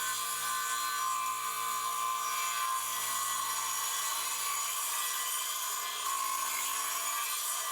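A radial arm saw cuts through a wooden cutting board with a steady, continuous whine that holds at an even level for about eight seconds, with no talking.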